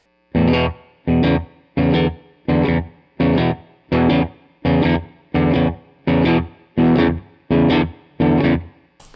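A distorted electric guitar strums a chord in repeated short bursts, about a dozen evenly spaced hits with a slightly lopsided swing, loud and close.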